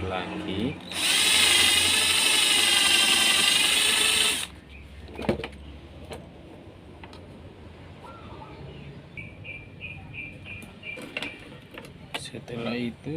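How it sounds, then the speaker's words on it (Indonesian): A power drill whines loudly for a few seconds while drilling a rice cooker lid part, then stops, followed by quieter clicks, handling noises and faint birdsong in the background. "Kemudian kita bor lagi."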